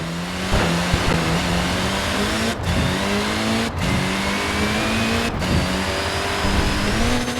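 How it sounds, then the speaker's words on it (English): A Mini in a racing game revs hard with tyres scrabbling and laying rubber, a steady loud engine drone with rising gear pitches and three brief gear-change dips, no talking. "Look at that, laying down some rubber there."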